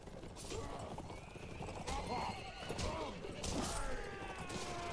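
Horses neighing and hooves clattering during a mounted skirmish in the Mount and Blade video game, with overlapping whinnies and clip-clop beats under a busy battle din; a voice talks over it.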